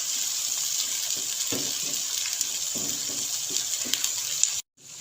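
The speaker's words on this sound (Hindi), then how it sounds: "अदरक लहसुन की हमने अच्छे से भुनाई करनी है।" Ginger and garlic sizzle steadily in a pan while being fried for a mixed daal wadiyan dish, a continuous close hiss with occasional faint stirring clicks, ending in a brief cutoff.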